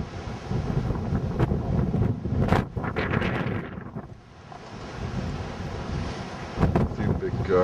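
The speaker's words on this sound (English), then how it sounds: "A few big gusts." Strong Hurricane Ike wind gusts roar and buffet the microphone continuously, surging loudly then easing briefly before building again.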